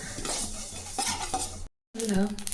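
Sesame seeds frying and spluttering in a pan while making puliyodharai powder, quick close crackles and stirring scrapes, broken by a brief silent cut.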